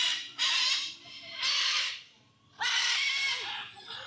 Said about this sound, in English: we hung out in the Aviary for a little while to see some of the birds up close and personal